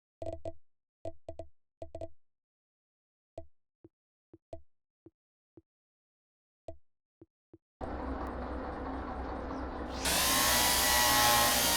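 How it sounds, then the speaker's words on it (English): Electric hand drill in the game Derail Valley boring two holes through a mount: sparse knocks and clicks give way to a loud, steady whirring drone that grows louder and brighter near the end, with no talking. "Drill 2 holes through the mount."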